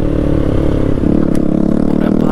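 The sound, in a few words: modified motorcycle riding on a road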